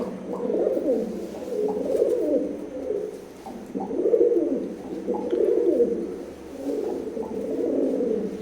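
Imported-line Teddy pigeons coo in steady, overlapping rounds of low throaty calls, a close and continuous chorus lasting the whole stretch with no talk over it.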